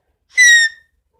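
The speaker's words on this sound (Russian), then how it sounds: "Ну, я, к примеру, вот так свищу." One loud, piercing mouth whistle, a single short steady blast heard alone in an otherwise quiet room.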